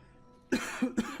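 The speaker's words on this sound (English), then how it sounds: "Excuse the cough." A person coughs during a Banished game session: a quiet pause, then three short, close coughs in quick succession, the first the strongest.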